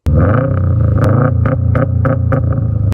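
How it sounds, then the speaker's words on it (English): Subaru WRX/STI with a catback exhaust giving a deep, loud burbling rumble close by, with a steady uneven boxer-engine throb and sharp pops and blips from quick throttle stabs, no talking. "Number 1 is going to be the sound of the exhaust. Everybody loves a good Subaru rumble."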